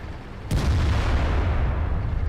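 A tank cannon fires in the World of Tanks video game, one sharp heavy boom followed by a rumbling decay, fairly loud with no talk over it.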